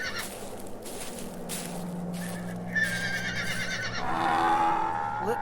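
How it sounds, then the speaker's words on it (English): A horse whinnies loudly near the end over a steady background of outdoor ambience and low rumble, with faint hoof clatter earlier. "He gave me this bag of silver coins and that horse over there"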